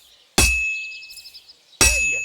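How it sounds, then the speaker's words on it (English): Two loud metallic clangs of a hammer striking a sword on an anvil at a medieval smithy in Kingdom Come Deliverance 2, about 1.4 seconds apart. Each strike leaves a bright ringing tail, with a faint whistled tune between them. "When I hammer a piece to a beat, the work goes by easier."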